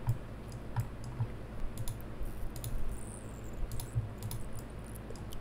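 Soft, sparse computer mouse clicks tap out irregularly during 3D modeling work, faint and close against a quiet room hum.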